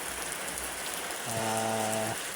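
Heavy rain pours down steadily as a dense, constant hiss throughout, with a brief tonal hum rising partway through.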